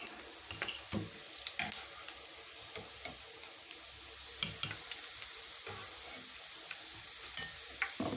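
Gulab jamun frying in hot oil, a faint continuous sizzle with scattered soft ticks and occasional light clinks of a utensil, heard close and alone with no voices.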